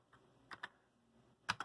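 Keys pressed on a Commodore SX-64 computer keyboard under repair and testing: a few sparse, quiet clicks in two short pairs, close by with no talk.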